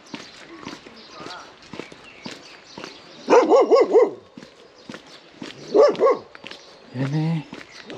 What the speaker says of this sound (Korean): 그럼 또 강아지들이 짖으니까